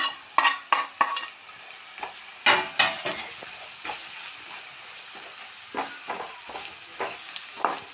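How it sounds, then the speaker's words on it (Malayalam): Chilli powder, coriander powder and garam masala frying in a pan for a potato and egg curry, stirred with a spoon in a series of sharp close scrapes and clinks over a soft sizzle, with short pauses between strokes. "അതിൻ്റെ പച്ചമണം പോണ വരെ നമ്മളൊന്ന് ഇളക്കി കൊടുക്കാം."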